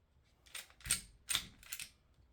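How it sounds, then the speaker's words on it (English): A PSA Micro Dagger pistol slide is worked and taken off, giving four sharp metallic clicks and clacks, close and distinct, evenly spaced over about two seconds with no talk. "Slide it back just a tad. Pull that trigger. Comes right off."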